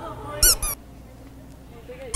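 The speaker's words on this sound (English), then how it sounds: "I was holding this and it just squeaked." A handheld squeaky toy gives two sharp, loud squeaks in quick succession, followed by a low, quiet background.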